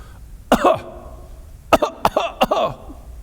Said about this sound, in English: he would cough once, and then he would cough 3 more times.